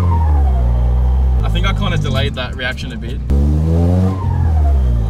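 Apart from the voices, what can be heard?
car accelerating, changing gears, exhaust leak noises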